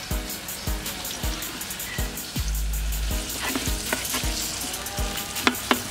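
Onion, carrot and red peppers sautéing in a pan for seafood rice, a steady close sizzle broken by repeated scraping stirs and a few sharp utensil knocks near the end.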